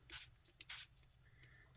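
Water is sprayed from a small spray bottle onto Distress crayon on paper: two quick, faint spritzes in a row, with softer rustling and small taps afterward.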